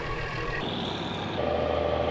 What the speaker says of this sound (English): Diesel lobster boats sound like this.